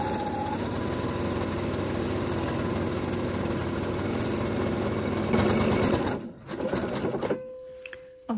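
A sewing machine stitches a long gathering thread along a sleeve with a steady, fast mechanical whirr that runs continuously, then stops and starts in short bursts near the end.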